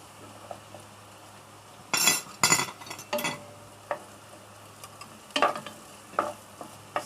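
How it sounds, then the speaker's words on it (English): Garlic and ginger stir-fried in a pan for chikutteh, a soft background sizzle broken by several loud scraping, clinking strokes of a utensil against the pan, irregular and close. "Stir fry until aromatic."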